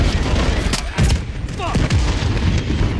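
Rapid gunfire bursts in a Call of Duty firefight, loud close cracks and booms in quick irregular succession with some overlapping shots across the whole stretch.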